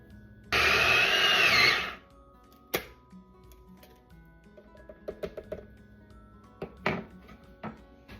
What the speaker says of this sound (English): So I'm gonna add those to my food processor now, and we're gonna blend that butter up in with those crumbs.